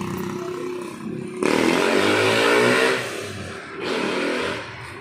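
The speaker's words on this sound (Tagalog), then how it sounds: "Bihira na yung motor na yan." A motorcycle roars past loudly at close range, its engine surging to a peak, easing off, then swelling again briefly as it moves away outdoors.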